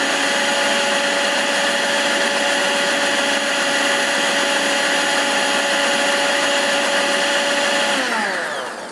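An electric kitchen grinder whirs steadily, grinding chillies and spices in a loud, continuous drone before winding down abruptly at the end.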